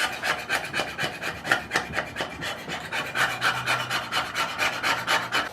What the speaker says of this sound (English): try to get as much rust off by scraping as possible